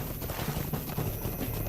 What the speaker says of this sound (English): this horse is faster than mine